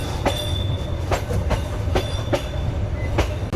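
A long-distance train in Myanmar rolls along the rails with a steady rumble, marked by a regular pattern of clacking wheel beats and a faint squeal.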